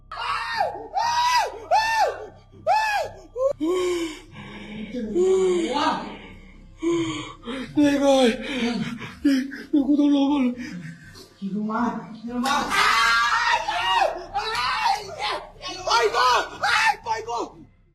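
Security camera footage captures a man screaming and gasping in repeated loud, strained bursts, mixed with other vocal outcries and odd laughing sounds at close range.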